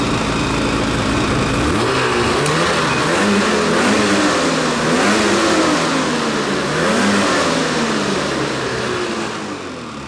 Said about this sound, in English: We'll slide it out, we'll restart the sled.